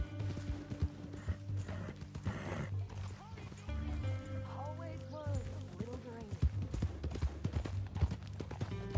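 Steady, rhythmic horse hoofbeats clip-clop in Red Dead Redemption 2 beneath a voice talking, with background game music and ambient noise throughout.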